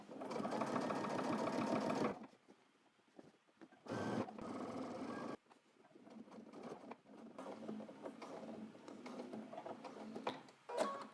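A sewing machine stitches trench coat fabric in short bursts, running loud for about two seconds, pausing, then running again in brief stretches with quieter handling noise in between.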